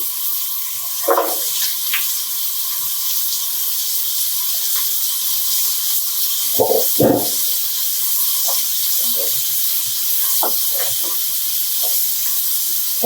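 Raw sweet pumpkin pieces going into a pan of shallow-fried onions and chillies for a prawn sabji, with a steady sizzle and a couple of stirring clatters running throughout.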